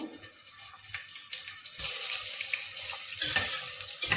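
Onions, cloves, marathi moggu and pineapple flower sizzle in a pan for Karnataka-style chicken biryani, a steady close frying hiss that grows louder and fuller partway through, with no talk.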